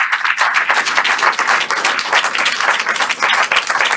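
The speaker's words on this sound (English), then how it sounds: "Let's all give them a great Chicago round of applause." An audience in Chicago gives a round of applause to the panelists at a US-Japan relationship event, with loud, dense clapping from many hands that carries steadily throughout.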